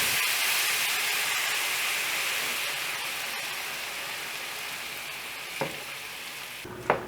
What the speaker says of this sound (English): while stirring, slowly add in 2 cups of milk and just simmer this till it's nice and thick